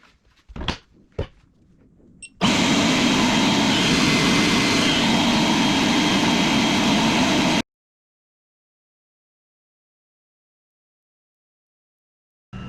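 An EGO 880 CFM cordless leaf blower starts after a few clicks and runs on its low setting with a steady loud whooshing roar for about five seconds, then shuts off into silence.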